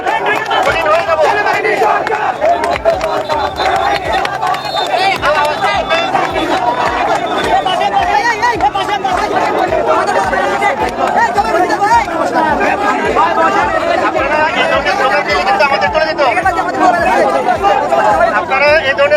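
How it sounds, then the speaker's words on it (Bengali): Large protest crowd in Bangladesh chanting slogans, a loud, dense and continuous roar of many voices with rhythmic shouting that never lets up. "আপনারা এই ধরনের স্লোগান দিলে আমরা কিন্তু চলে যাবো।"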